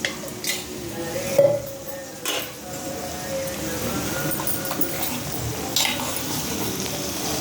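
Oil heats in a wok with a soft steady sizzle, broken by occasional clinks and scrapes of utensils, while egg pancakes are made.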